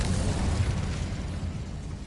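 A fiery burst from an Incendio spell in Hogwarts Legacy, a loud, sustained roaring blast with heavy low rumble that slowly eases over about two seconds, with no voices.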